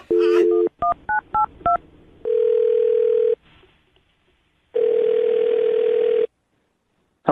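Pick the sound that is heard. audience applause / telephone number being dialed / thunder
telephone number being dialed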